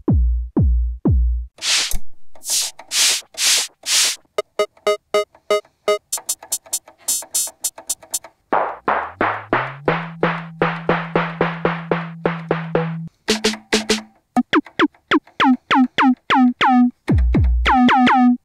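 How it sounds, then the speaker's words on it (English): An Erica Synths Perkons drum machine plays a programmed pattern of kick, punchy snare and hi-hat alongside tuned, pitched percussive tones, with crisp, loud, evenly stepped hits that change voices through the sequence, with no talking. "we have the kick and this sound. Nice and punchy snare. And a hi-hat."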